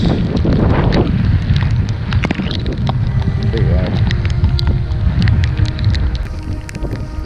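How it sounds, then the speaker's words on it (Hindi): Strong wind and rain batter a rocky patch of Manori beach in Mumbai, a loud, constant roar of gusts buffeting the microphone with scattered raindrop taps throughout. "इसमें तेज हवा और बारिश."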